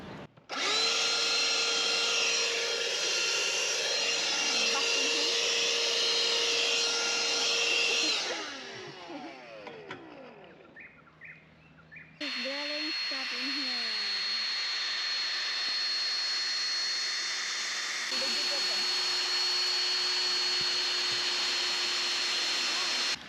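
Vacuum cleaner running with a loud, steady high-pitched whine, dropping away mid-way while a voice talks over quieter noise, then starting up again and droning on to the end.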